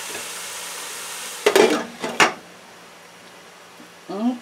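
Vegetables for vegetarian fried rice fry in olive oil with a soft steady sizzle, broken by a short burst of utensil scraping and clanking against the pan midway, then a brief stir at the end.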